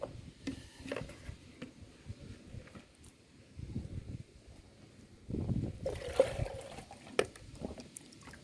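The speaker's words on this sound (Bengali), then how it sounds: "এবার জল দিয়ে দিচ্ছি দেখো জলটা দিয়ে দেবো যতক্ষণ না জলটা বেরোবে" Water poured from a container onto the soil of a freshly repotted Lakshmi Jaba plant, giving a soft, close splashing and trickling that swells into a fuller rush near the end over faint background noise.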